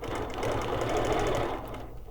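A sewing machine stitches fabric in a close, even, rapid whir that holds steady for about two seconds before slowing at the end.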